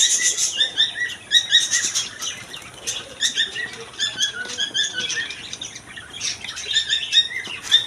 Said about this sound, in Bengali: আর কয়েল পাখিগুলো অনেক সুন্দর সুন্দর, অনেক বড় বড়, 200 গ্রাম করে ওজন আছে কয়েল পাখিগুলোর।